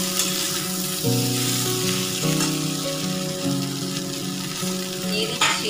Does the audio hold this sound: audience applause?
no